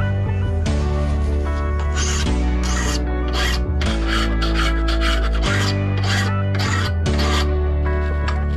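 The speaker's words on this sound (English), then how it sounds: "followed by some hand filing." A metal part from an engine-model assembly is hand-filed with close, loud rasping strokes in an uneven rhythm. A steady tonal hum runs underneath the strokes.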